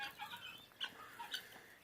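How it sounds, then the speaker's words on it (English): Guinea hens from Africa clucking and chattering outdoors along a trail, a quiet run of scratchy, rhythmic calls at a moderate distance. "I'm told these are guinea hens from Africa."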